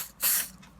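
A single short hiss of super glue accelerator sprayed from a can onto a fret seated in the neck of a 1962 Hofner Verythin guitar being refretted, close and brief, under a second long.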